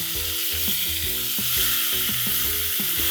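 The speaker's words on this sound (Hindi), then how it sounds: "तेल में ऐड करेंगे 1 छोटा टुकड़ा दालचीनी, 3 काली मिर्च ऐड करेंगे, 1 टीस्पून जीरा ऐड करेंगे, 3 टमाटर को मैंने काट लिया था वो ऐड करेंगे।" Chopped tomatoes with cinnamon, black pepper and cumin sizzling loudly in hot oil in a kadai, a dense continuous frying hiss with rhythmic stirring scrapes.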